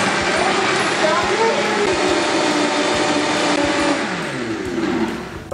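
Kitchen blender whirring loudly and steadily as it purees a chocolate smoothie with broccoli, avocado and almonds, a continuous motor roar that eases slightly near the end, with faint voices underneath.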